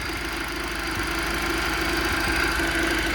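Car engine idling in an engine-swapped convertible with a turbo, a steady low rhythmic chug with faint knocking-like pulses, heard close and alone with no talking.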